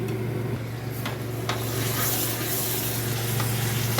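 Pressure-boiled mutton going into hot masala that has started releasing oil, a continuous close sizzle and frying hiss with faint stirring scrapes over a low steady hum, no talking.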